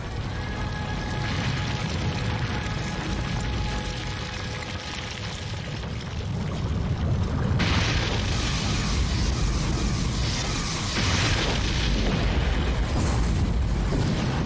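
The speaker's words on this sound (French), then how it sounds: "Et ça explose de partout" Continuous roaring, rumbling explosions from a Fairy Tail anime episode, dense and loud throughout with a surge about halfway, with no clear talk over it.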